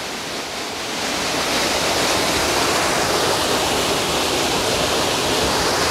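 A secret waterfall in a natural setting beside a cave area, a loud, steady, broadband rushing roar of falling water that swells in over the first second and then holds constant and close, with no voices.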